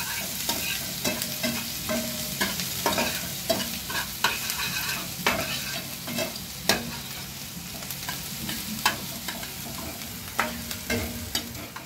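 Garlic and ginger with chillies frying in oil for momos, a steady close sizzle broken by frequent scraping and clacking stirring strokes, with no talk.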